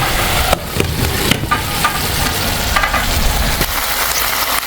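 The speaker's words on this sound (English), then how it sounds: "I'll add my garlic, ginger, and onions to give it more flavor" Garlic, ginger and onions fry loudly in a saucepan of sauce, a dense, close sizzle with scattered stirring knocks throughout.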